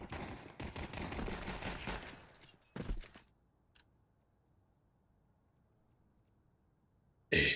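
Dense bursts of rapid gunfire from a Counter-Strike match fill the first few seconds, then cut out to near silence before a sharp, loud shot or blast at the very end.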